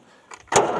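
An Ursus 3512 MF tractor engine cranks briefly and then catches, bursting into a loud, rough running roar right after a short quiet pause.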